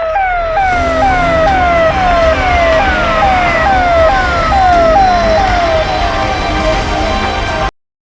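A fire engine siren sounds loud and close, wailing in rapid repeated rising sweeps over a heavy vehicle rumble, then cuts off abruptly at the end.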